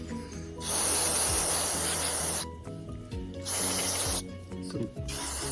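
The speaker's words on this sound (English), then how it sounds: "So we're gonna spray this off" Cleaner hisses from a spray can onto small parts of a little saw, in two long bursts with a pause and clicks between, close and loud.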